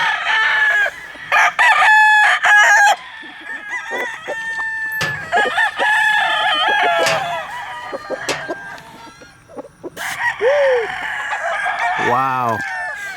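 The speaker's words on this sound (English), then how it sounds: "That's a picture rooster there, ain't it? It is a picture rooster." A rooster at a fair crows loudly several times close by, with clucking fowl and crowd noise around it and brief talk between the calls.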